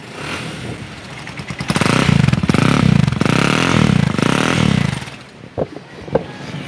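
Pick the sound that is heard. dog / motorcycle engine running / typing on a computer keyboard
motorcycle engine running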